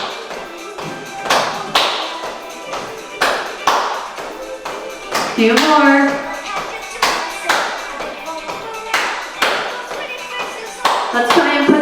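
Hand claps during a seated chair fitness routine, sharp single claps landing in a steady repeating rhythm at close range, each one separate and punchy, with an instructor calling out cues between and over them.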